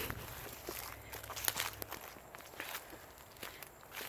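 Quiet, soft footsteps shuffle slowly over a hard floor, each step a faint scuff with light rustling, close by and without talking.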